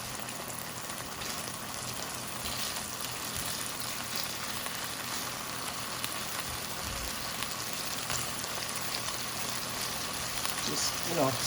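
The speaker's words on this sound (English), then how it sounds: "sear them on both sides" Thin beef slices sear in a hot pan, giving a steady, dense sizzle like light rain that holds evenly throughout, with a voice talking faintly over it.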